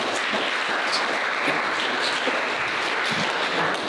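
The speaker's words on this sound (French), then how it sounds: "On peut s'applaudir déjà pour se donner un peu de courage." An audience at a youth political party debate on immigration applauds, a dense steady wash of clapping hands that fills the room without a break, loud and sustained with no speech on top.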